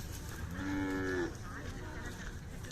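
A single drawn-out moo from Khillar cattle at the Jat livestock market, fairly close and clear, rising then trailing off, with faint outdoor background noise around it.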